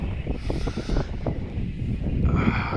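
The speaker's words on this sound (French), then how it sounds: "Même là, avec le vent qui passe." Strong wind gusts across an anchorage in Nassau, Bahamas, with steady broadband rushing and low buffeting rumble close to the microphone, continuous for the whole stretch.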